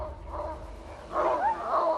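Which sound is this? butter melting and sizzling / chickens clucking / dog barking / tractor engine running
dog barking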